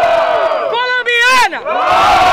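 Crowd at a Brazilian freestyle rap battle semifinal roars with loud cheering, whistling and shouting, a dense sustained wall of voices with rising whoops throughout.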